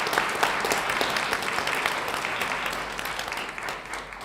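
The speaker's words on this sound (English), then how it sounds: "Let's give them a round of applause, please." A crowd applauds steadily throughout, dense clapping at moderate volume from an audience in a room at a school board meeting.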